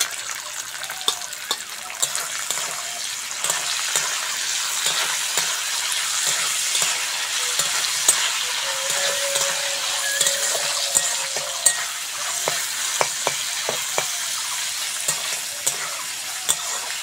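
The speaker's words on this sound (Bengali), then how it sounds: "এবার আমি ক্যাপসিকাম আর বরবটি কড়াইটা দিয়ে দেবো।" Capsicum and green beans stir-frying in a wok for homemade chow mein, a steady close sizzle broken by repeated scraping and clinking of the spatula against the pan, with no talking.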